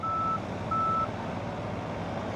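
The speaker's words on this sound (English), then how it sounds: "if you push the close button, you'll hear a beep" Two steady electronic beeps sound from a Tesla Model X Falcon Wing door when its close button is pressed, each roughly a third of a second long with a short gap between them, heard over a constant background hum.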